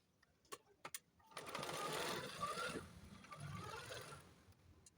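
Sewing machine stitching a fall onto a saree: after a few faint clicks, a steady close motor whir with fast needle chatter runs for several seconds, easing slightly toward the end.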